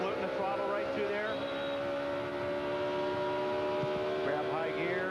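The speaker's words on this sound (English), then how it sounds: "Hear him floating the throttle right through there." A 2006 Busch Series stock car at Watkins Glen holds a steady, sustained engine drone as the driver floats the throttle through a corner, with a commentator talking over it throughout.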